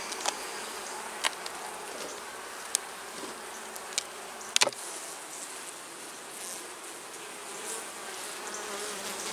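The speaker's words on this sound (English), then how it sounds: "Good number of bees up here." A steady, dense hum of honey bees buzzing from an opened hive during inspection of a deep brood box, continuous throughout, with a few sharp clicks and knocks breaking through near the start.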